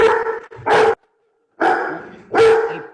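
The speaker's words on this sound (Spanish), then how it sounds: "El perro de Ana." Dog barks close and loud, four sharp woofs in two pairs separated by a brief silence, with no talk over them.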